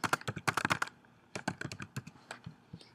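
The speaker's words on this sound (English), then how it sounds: "you can just click and begin typing" Typing on a computer keyboard: a quick burst of close, crisp key clicks, a short pause, then a looser run of taps trailing off, alone and fairly quiet.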